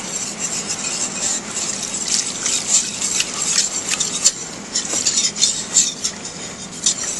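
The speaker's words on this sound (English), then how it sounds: "And you continuously keep stirring so that roux" A flour roux is stirred continuously with stock in a pot for a velouté sauce, producing a close, steady wet swishing and scraping with small clinks of the utensil.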